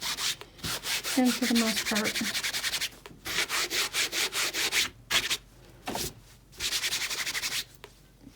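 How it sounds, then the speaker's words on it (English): A coconut shell is scrubbed in quick back-and-forth strokes across fabric to remove chalk, a close, rhythmic rasping in several bursts with short pauses between them. A voice speaks briefly. "when this one happens to be made with a coconut shell, and you just kind of do a little scrub"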